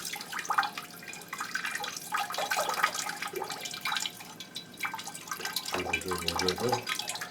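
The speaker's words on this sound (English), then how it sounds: "it can quite happily just carry on dripping on the floor" Water drips from a freshly watered plant pot onto the floor, faint irregular drips and small trickles sounding close in a quiet room.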